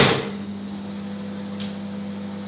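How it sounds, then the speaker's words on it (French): A microwave oven runs while heating, giving off a steady, moderate low electrical hum that holds level throughout after a brief click at the start. "je mets 2 à 3 minutes au micro-ondes"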